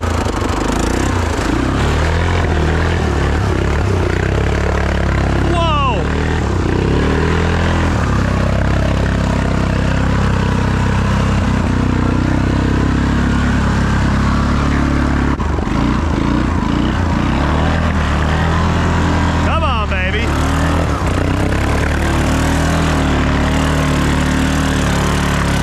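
Yamaha Grizzly ATV engine runs continuously while driven through deep water, a loud, steady, rough mechanical drone that persists throughout with slight surges in intensity.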